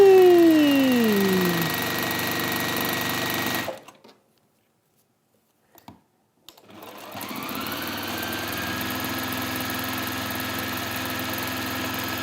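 Domestic sewing machine stitching the side of a folded fat quarter bag, a steady close motor whir with fast needle chatter that stops dead for a few seconds of silence, then starts again and runs on.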